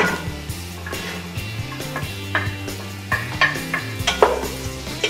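Chopped winter squash goes into a pot of clam chowder with potatoes, giving repeated knocks, scrapes and stirring clatter over a low sizzle.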